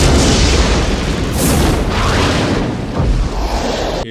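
Huge nuclear bomb explosion from the 1994 comedy film The Naked Gun 33 1/3, a loud sustained rumbling boom with rolling blasts that stays heavy for the whole stretch.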